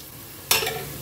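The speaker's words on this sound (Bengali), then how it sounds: "শুধু তেলের মধ্যে সামান্য একটু চিনি দিয়ে পেঁয়াজটা দিয়ে" Onion frying in hot oil with a little sugar, for a home-cooked Bengali meal: a loud sizzle bursts in halfway through and carries on steadily to the end, after quiet kitchen background, with no voices.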